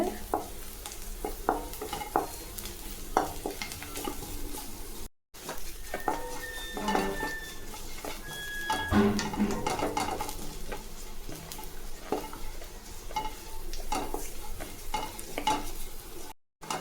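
Garlic frying until crisp in a pan gives a low, steady sizzle, while a utensil stirs and scrapes against the metal in repeated clinks and knocks, close and fairly quiet throughout.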